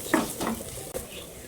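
Chili powder stirred into kappa biryani masala frying in a pan, with a short scraping stir and a light sizzle underneath, close by.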